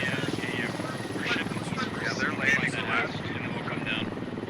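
Military video game helicopter rotor thumping steadily at close range, with radio voices chattering over it throughout.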